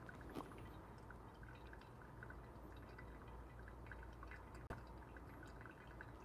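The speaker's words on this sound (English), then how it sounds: "Slowly introduce the rest of the water, all the way up to 250." Water from a kettle trickles slowly over coffee grounds in a pour-over brewer, a faint continuous thin stream with soft dripping and a couple of light clinks.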